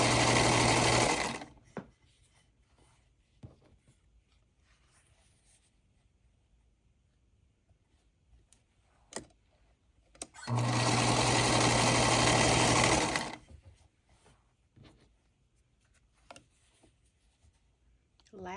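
Sewing machine chain piecing quilt fabric scraps, two loud close bursts of rapid motor-driven stitching, one at the start and one longer run midway, separated by quiet handling noises and brief clicks.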